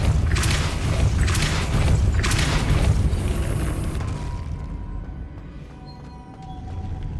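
Depulso spell cast in the video game Hogwarts Legacy: a series of heavy booming thrusts of force, three broad bursts close together, then a rumbling decay into quieter mechanical ambience.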